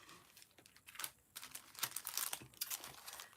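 Sticker sheets crinkle and rustle in close handling, a run of light crackles and soft scrapes coming in irregular bursts with brief pauses, no voices.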